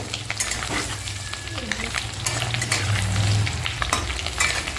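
Masala paste with onion, tomato and green chili fries in a pan in a home kitchen, giving a steady close sizzle with repeated scraping and stirring clatter throughout, and no talk.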